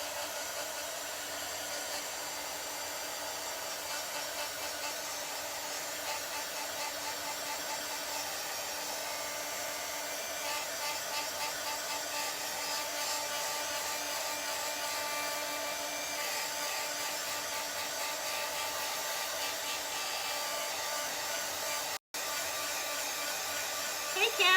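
A hair dryer blows steadily on a chalk-painted craft project, a continuous whooshing hum that runs for the full length with a single brief cut near the end.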